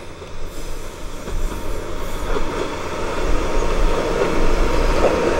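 A train pulling out of Ajigasawa station on the Sea of Japan coast, a loud, steady rumble of wheels and carriages rolling close by, building slightly as it moves off, with no voices.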